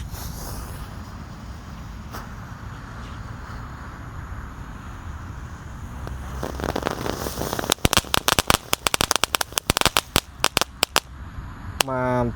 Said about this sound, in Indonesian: Ini kita nyalakan mercon tank ya, dengan 3 tembakan.